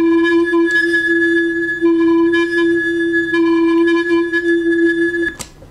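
Creepy distorted audio effect played back: a sustained, ringing tone repeating in three long phrases with a harsh buzzy edge, fairly loud, ending in a short burst of noise.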